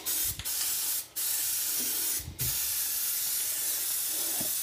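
Tough as Tile spray-on coating hisses from an aerosol can in long, loud continuous bursts, broken by two or three brief pauses between passes.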